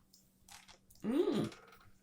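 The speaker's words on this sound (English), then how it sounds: "Get a bigger piece so they can hear you crunch it" A single short burst of crunchy chewing on oven-baked cornstarch close up, loud for about half a second after a quiet moment, with faint background noise around it.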